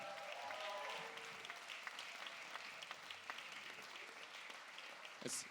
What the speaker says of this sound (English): So big cheer to all our OAs.